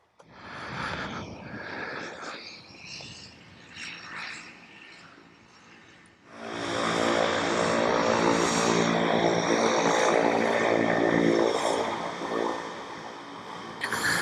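A propeller plane carrying skydivers drones overhead, quieter at first, then swelling loud and steady as it passes close, with a faint rumble throughout.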